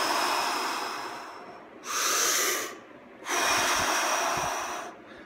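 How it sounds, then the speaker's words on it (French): Deep breathing in the Wim Hof method: two long, forceful, breathy rushes of air close to the microphone, separated by short quiet gaps, with no talking. "Par respiration profonde, c'est le maximum d'air que vous êtes capable de mettre dans vos poumons."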